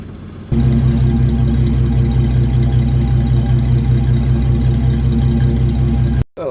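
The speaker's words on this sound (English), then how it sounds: "car has just an amazing exhaust note." A 1930 Maybach car idles close by with a deep, steady, even exhaust note that holds for several seconds and then cuts off abruptly.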